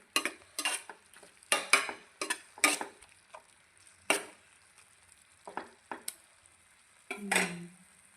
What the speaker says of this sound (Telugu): కారం వేసుకొని మళ్ళీ కలిపినాక కలుపుకోవాలి మొత్తం